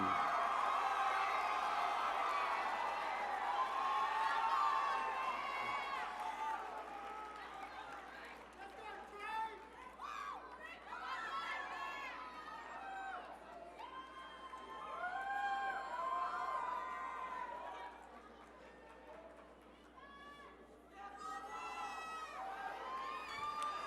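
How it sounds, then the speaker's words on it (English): Crowd at the Mr. VHS 2019 pageant, a Vineland high school event, cheering, whooping and shouting for five finalists and seven contestants, a loud sustained roar that slowly eases, with voices chattering throughout. "Let's give a round of applause to our 5 finalists and our 7 contestants for Mr. VHS 2019"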